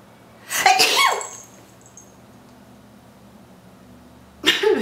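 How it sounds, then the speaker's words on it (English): A person gives a loud, cartoonish sneeze, a sharp close burst with a quick inhale before it. A second sneeze begins near the end after a quiet pause. "I sneeze like a cartoon character"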